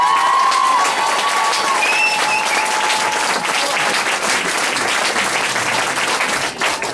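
Audience at a school show applauding, dense sustained clapping from a large crowd filling the room, steady and loud throughout with a faint tone trailing at the start.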